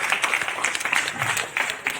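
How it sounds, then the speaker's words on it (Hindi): An audience at a Hindi literary book-launch ceremony applauds the release of four books, with a close, brisk patter of many hands clapping continuously through the short stretch. "जोरदार तालियां बजनी चाहिए।"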